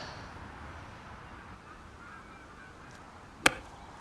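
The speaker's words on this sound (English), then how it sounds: "Goose. The Canadian geese." A single Canada goose honk rings out sharply near the end, loud and brief against a low, steady outdoor background hiss.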